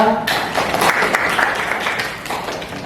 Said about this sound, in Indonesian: Tepuk tangan untuk Anda.